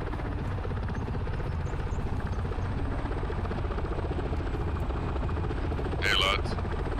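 Military helicopters in Arma 3 give a constant heavy rotor thump and engine drone that fills the whole stretch, steady and close, with a short burst of radio-like chatter near the end.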